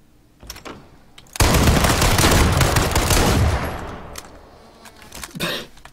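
A burst of rapid gunfire rattles loudly for a couple of seconds, followed by a few scattered shots, with no talking, in the video game H1Z1.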